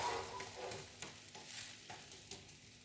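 A roti cooks in a pan over a low flame, with a soft, steady sizzle and occasional light scraping sounds close by.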